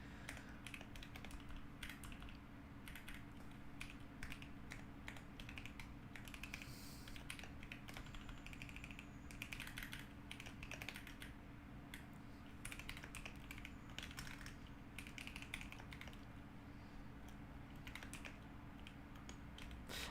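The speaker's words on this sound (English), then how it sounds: "Or am I typing 2 words per minute?" Someone types on a computer keyboard, giving a fast, irregular run of close clicking keystrokes that goes on for about twenty seconds over a low steady hum, with no talking.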